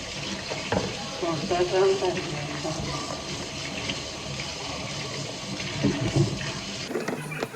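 Cucumbers are washed under running tap water at a sink, a steady close gush and splash with shifting bursts as they are handled, ending in a brief pause.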